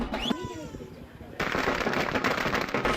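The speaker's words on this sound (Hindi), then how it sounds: "ढोल नगाड़ों की आवाज, सजा धजा घर, नाचते गाते लोग, आतिशबाजी की धूम।" Fireworks and firecrackers burst in a rapid, continuous crackling barrage at a family celebration with drums, steady and loud after a brief quieter opening.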